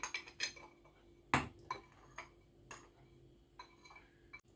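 A spoon clinks and taps against a heat-resistant dish while stirring gelatin into liquid, in irregular strokes, quiet and close, with one sharper knock partway through.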